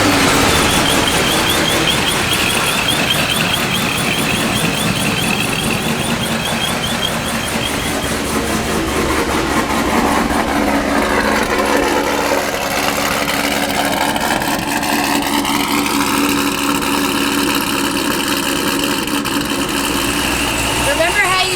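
A ProCharged car engine runs with a Corsa full exhaust, giving a steady, loud rumble that continues for the whole stretch, while people talk over it nearby.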